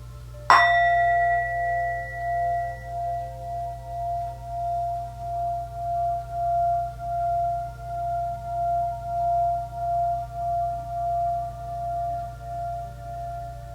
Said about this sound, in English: I'd like to begin practice today with the sound of a chime bowl